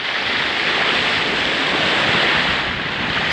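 Open sea off the Canary Islands near Las Palmas heard from a sailing boat: a constant loud wash of waves and rushing water mixed with wind buffeting the microphone, no voices.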